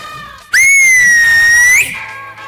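An actress blows a loud, shrill whistle that rises quickly, holds steady and piercing for over a second, then drops away, heard close with no talking over it.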